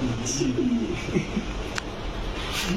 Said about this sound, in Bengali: এটা কিন্তু রেড গিয়ারের কবুতর